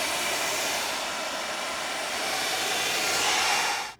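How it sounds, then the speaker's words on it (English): Handheld hair dryer running steadily while blow-drying long hair straight, a loud continuous whooshing airflow close by that cuts off abruptly at the end. "So I like to just bring everything forward and then just blow dry down."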